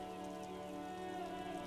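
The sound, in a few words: rain in the video game Disco Elysium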